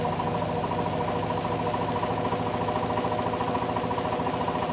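A homemade free energy perpetual generator spins up with a steady, even mechanical hum and faint rhythmic whirring, holding a constant level throughout with no voices.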